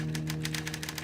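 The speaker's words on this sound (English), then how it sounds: "Maybe the typing noise will go away." Quick rhythmic typewriter-style keystrokes from the video game Dead Secret tap out in a steady run of evenly spaced clicks over a low electronic hum.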